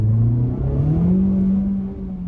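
A 2019 Honda Civic Type R hot hatch accelerates hard in second gear, its engine note rising steadily in pitch, loud and close with no talk.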